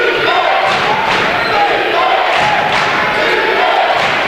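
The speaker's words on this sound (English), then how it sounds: "Crowd trying to get into this one." A basketball crowd roars steadily at a conference semifinal, a dense, continuous wash of many voices that stays loud and even throughout, with faint thuds and scattered cheers within it.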